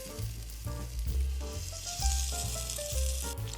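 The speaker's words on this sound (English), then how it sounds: "In a heated pot, you want to add your stick of butter. And we're going to let that melt." A stick of butter melts in a heated pot over medium heat, sizzling and crackling steadily up close with faint stirring, no voices present.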